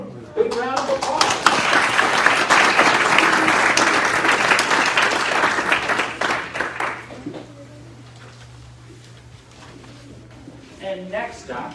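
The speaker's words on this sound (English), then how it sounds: "Big round of applause" Loud audience applause at a school students and employee of the month ceremony, dense clapping that swells then fades out after several seconds, with a low hum underneath and a brief voice near the end.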